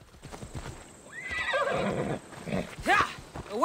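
A horse whinnies loudly and snorts up close in Assassin's Creed Odyssey, with hooves clip-clopping underneath and a second shrill neigh near the end.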